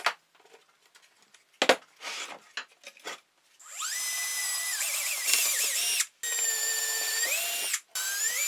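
Power drill driving long screws into a wooden bird feeder house being restored, heard after a few scattered knocks as two sustained whirring bursts with brief pauses between, loud and close.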